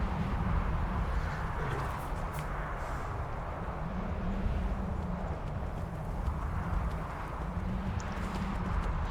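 Horse hooves in Skyrim, climbing toward the top of the Throat of the World: a steady, continuous clopping gait under a low rumbling ambience, with no talk.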